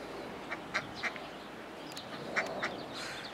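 A mother duck with ducklings at a wetland gives a few quick quacks and short calls over steady outdoor background noise, at moderate distance.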